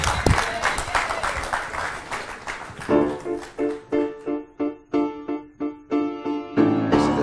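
Lively crowd applause for a singer-songwriter fills the first few seconds, then gives way to rhythmic piano-like chords pulsing about once per second, with the clapping fading underneath.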